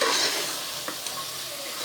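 Boiled mutton being stirred into a spicy gravy in a pan, a constant close sizzle with a couple of soft spoon scrapes and taps against the metal, no speech.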